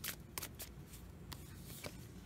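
A tarot card deck is shuffled close up, giving faint papery riffles and soft flicks with several sharper snaps spread through. The sound is quiet and there is no talk.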